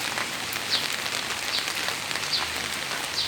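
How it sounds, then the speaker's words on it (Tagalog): Steady rain falls on a wet morning, a dense, even hiss of drops on surfaces with occasional louder nearby splashes, and no voices. "Laging maulan, hindi man lang humihinto."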